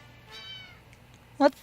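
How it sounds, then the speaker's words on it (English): A cat meows in the video game 60 Seconds, a brief soft mewing tone followed by a louder, sharper meow about a second later, close by and with no talk. "Oh, there's a cat."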